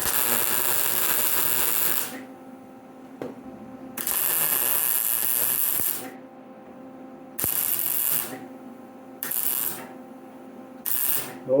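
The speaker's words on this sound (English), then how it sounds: "I'm going to plug weld all those holes" Plug welding of holes in a rear quarter body panel on a 1965 Ford Thunderbird: five loud, sustained buzzing weld bursts, each about one to two seconds long, separated by short pauses of quiet.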